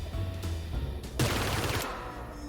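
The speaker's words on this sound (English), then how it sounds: "There's a machine gun right now." A tank's machine gun fires in a VR Tiger tank simulator game, first in short bursts and then in one dense sustained burst of rapid shots that cuts off abruptly, with no talk.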